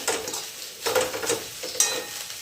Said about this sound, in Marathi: आता हे थोडंसं छानपैकी मिक्स करून घेते हे शेंगदाणे आणि हे भेंडीची भाजी शिजलेलीच होती